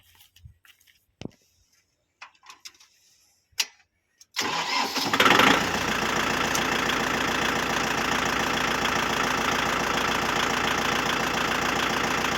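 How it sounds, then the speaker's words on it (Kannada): A 55 hp Kubota tractor starts up after a few seconds of near quiet broken by faint clicks and knocks, then cranks and catches into a steady, fairly loud idle that runs on to the end. "ಬನ್ನಿ ಸ್ನೇಹಿತರೆ, ಗಾಡಿನ ಸ್ಟಾರ್ಟ್ ಮಾಡೋಣ."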